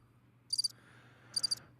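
Cricket chirping in two short bursts of rapid trilled pulses, separated by a brief pause, over a faint low hum, with no voices.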